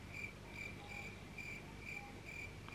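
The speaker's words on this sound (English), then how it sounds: "Crickets." Crickets chirp in a steady, pulsing rhythm, faint and continuous against a quiet background hum in a bedroom.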